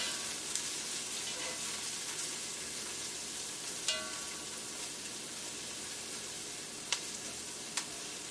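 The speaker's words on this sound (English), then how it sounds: "now I'm just stirring this around so it can start to cook on both sides" Peppers and onions fry in a pan for breakfast egg rolls. A soft, even sizzle runs throughout, broken by a few sharp clicks and scrapes as the vegetables are stirred.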